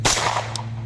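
A single sharp crack comes from an AR-15 rifle chambered in .300 AAC Blackout firing Ammo Inc stealth ammunition. The loud report is close and suppressed-sounding and fades quickly into a low hum.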